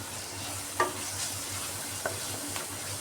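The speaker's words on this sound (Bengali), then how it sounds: "যে কাশ্মীরি লাল লঙ্কার গুঁড়াটা দিয়ে আবারও আমি ভালো করে কষিয়ে নিচ্ছি মশলাটাকে" Masala with Kashmiri red chili powder fries in a pan, a quiet steady sizzle broken by a couple of sharp spatula taps and scrapes.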